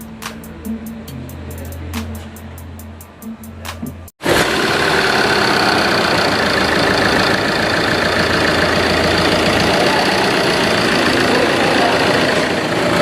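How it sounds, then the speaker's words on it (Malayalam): A Tata Nexon in for an oil sump leak repair, freshly filled with engine oil, idles loud and steady after a few seconds of light ticking and clicks before it starts. "വണ്ടി നമ്മൾ സ്റ്റാർട്ട് ചെയ്ത് വെച്ചിട്ടുണ്ട്."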